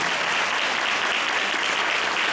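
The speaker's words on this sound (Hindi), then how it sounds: "जोरदार तालियों से स्वागत करें" Steady, loud applause from an audience welcoming poets at a Guru Purnima poetry gathering, a continuous wash of clapping with no break.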